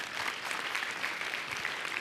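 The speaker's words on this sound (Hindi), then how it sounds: "क्या हम सब हमारी बहन के लिए तालियां बजा सकते हैं?" An audience at the Aurangabad Education Expo 2024 bursts into steady, dense clapping that fills the hall, loud and continuous throughout with no break.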